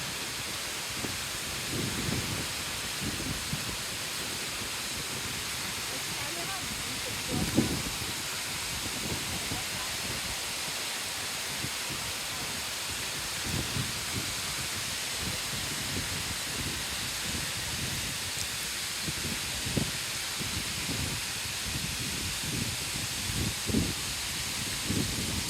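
Wli Waterfalls in Ghana rush with a steady, dense hiss of falling water that fills the whole scene, constant and fairly close, with faint low thumps scattered underneath.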